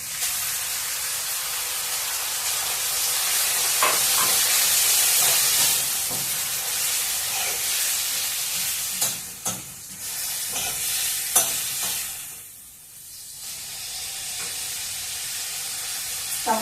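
Tomatoes go into a hot pan for Telugu-style tomato pappu, sizzling and hissing steadily while a spoon stirs and scrapes through them, with a brief lull partway through before the frying resumes.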